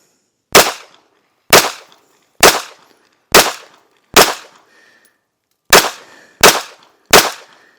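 A Derya pistol fitted with a Gideon Alpha optic fires eight loud, sharp shots up close: five evenly spaced, a short pause, then three more in quicker succession, with no talking.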